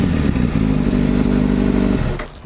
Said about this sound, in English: I'm not trying to rev it too high because I have neighbors and family are home.